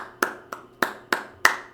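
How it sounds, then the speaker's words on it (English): Five sharp, separate hand claps spaced at a loose, even pace, close and fairly quiet with short decays between them. "I got to give a round of applause for both players."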